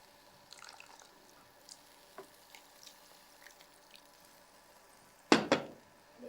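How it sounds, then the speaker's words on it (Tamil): Water splashes briefly in two quick close bursts near the end as it is poured into tamarind, after a stretch of quiet with faint clinks. "தேவையான அளவு தண்ணி ஊற்றிக்கலாம்"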